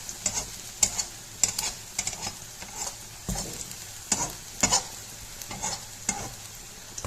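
Pieces of goat liver (kaarjinam) frying in a pan for a curry, with a steady close sizzle broken by repeated stirring scrapes and clinks at uneven intervals.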